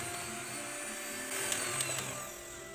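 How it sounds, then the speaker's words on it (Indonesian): Electric hand mixer beating margarine and sugar at high speed, a steady whirring motor drone with a few faint scraping ticks against the bowl, moderately close and with no talk. "Lalu mixer dengan kecepatan tinggi."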